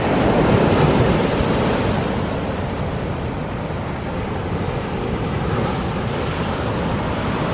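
Ocean surf breaking on a Western Australian beach along the Cape to Cape track, a steady loud roar of waves mixed with wind buffeting the microphone, continuous with no speech.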